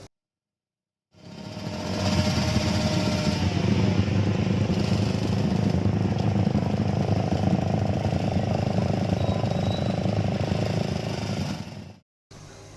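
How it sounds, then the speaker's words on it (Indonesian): Modified motorcycles with non-standard exhausts roar through an illegal street race in Lubuklinggau, a loud, continuous buzzing drone that holds steady for about ten seconds, then cuts off abruptly. "knalpot kendaraan tersebut diganti dengan knalpot tidak standar sehingga mengeluarkan suara"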